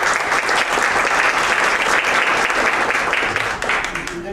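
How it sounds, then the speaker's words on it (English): Audience applause for a candidate at a Fort Collins candidate forum, a dense, steady wash of many hands clapping that stays loud throughout and tapers slightly near the end. "a round of applause to Bryce Hawk"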